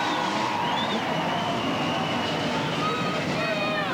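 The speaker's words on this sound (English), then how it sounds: "Gentlemen, start your engines." NASCAR Southwest Tour race cars start their engines before a race, a dense, steady roar that fills the whole stretch at high level, with a faint voice mixed in.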